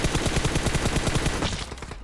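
Rapid automatic gunfire in PUBG Mobile rattles loudly in a fast, even burst, then cuts off abruptly near the end.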